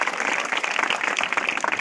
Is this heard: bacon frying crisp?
no